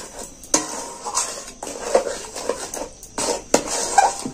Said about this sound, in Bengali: দিয়ে আমি এটাকে নাড়াচাড়া করে একটা ডো করে নেব।